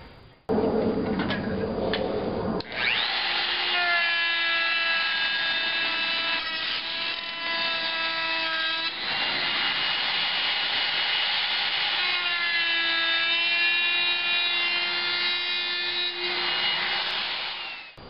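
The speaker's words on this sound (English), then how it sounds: "Change my bit to a flush bit with a bearing, and what's going to happen is that this is going to ride along this nice smooth edge" A router with a flush-trim bearing bit trims edging on a tenor ukulele in a radius arc jig, a loud, steady whine with shifting pitch sustained for nearly the whole clip, starting after some brief scraping and handling noise.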